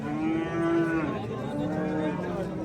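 Cattle at a livestock market where cows and pregnant heifers are sold, giving a long, loud moo followed by a second drawn-out call, close by over a steady market murmur.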